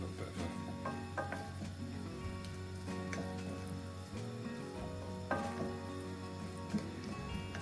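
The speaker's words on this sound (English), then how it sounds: "It's almost like stir frying it" Vegetables sizzle steadily in a hot pan with stock while being stirred, with occasional scraping and clinking of a utensil against the pan.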